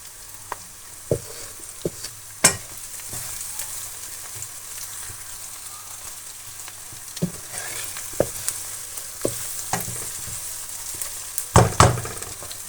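Salt and red chili frying in oil in a pan for a capsicum and potato sabzi, a low steady sizzle broken by intermittent sharp clicks and spatula scrapes, no voices.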